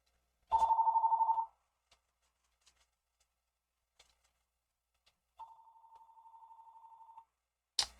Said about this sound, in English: There's my phone ringing.